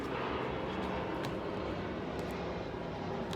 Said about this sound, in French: Je laisse passer l'avion et son bruit.